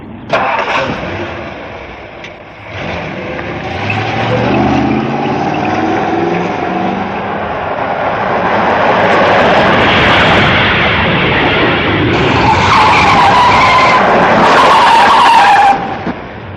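Car engine roaring at speed with tyres skidding during a chase in a 1967 Captain Scarlet puppet adventure, a loud sustained drone that swells and screeches through the final seconds.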